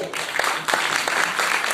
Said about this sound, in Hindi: एक बार आप जोरदार तालियां बजाओ